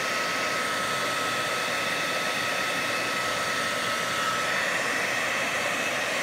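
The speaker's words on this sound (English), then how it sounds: "you take a blow dryer, put it on high heat, and you heat up the joint" Blow dryer on high heat warming a plastic joint on an action figure, a loud, steady, continuous airy whoosh throughout with no talk.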